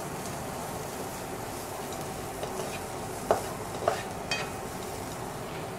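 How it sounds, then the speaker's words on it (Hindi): Spices with red chilli powder roast in a pan with a soft, steady sizzle, while a few light clinks and scrapes of stirring come through near the end. "And we will just let it get roasted until the raw smell of the spices go away for a couple of seconds."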